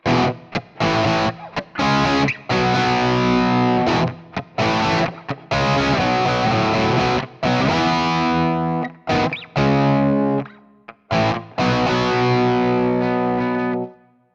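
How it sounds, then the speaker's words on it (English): Heavily distorted electric guitar rhythm tone from a Fractal amp modeler, chugging out the rhythm part in loud chords with sharp stops and gaps, played alone. "First we have our rhythm tone, which we heard in the intro."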